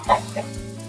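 A chicken gives two quick, short clucks close by, the first louder than the second, with a faint low hum underneath.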